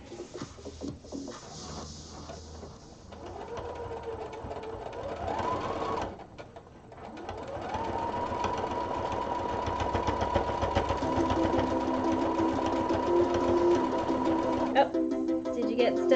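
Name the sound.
sewing machine stitching an automatic buttonhole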